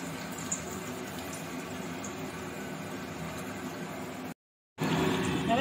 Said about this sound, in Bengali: এবার একটা একটা করে ভেজে নেব ডালপুরিগুলো